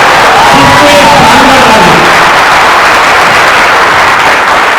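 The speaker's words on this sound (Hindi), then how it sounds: "आपके लिए, मैडम के लिए जोरदार ताली बजनी चाहिए" An audience at an Utsav honouring event claps loudly and continuously, a dense, saturated wash of applause with a voice briefly rising over it at the start.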